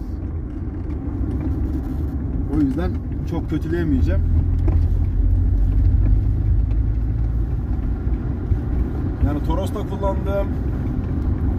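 Steady low rumble of road and engine noise inside the cabin of a 30-year-old Hyundai Excel 1.5 GLS on the move, constant and close, with someone talking over it.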